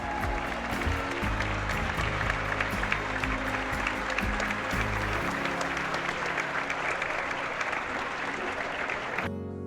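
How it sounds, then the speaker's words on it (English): Loud, sustained applause from a crowd at a puzzle championship in Spain, dense clapping filling the hall for nearly ten seconds before it cuts off abruptly. "Around 37 minutes in, there was a loud round of applause."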